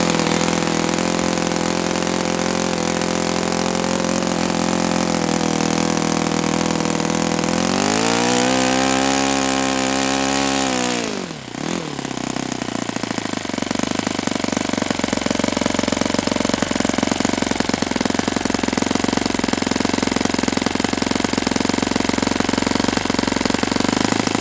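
A Saito FA-91S four-stroke model engine with no throttle stop screw on its carb runs loud and steady at low speed, its note sagging and dipping briefly before settling back into a continuous drone.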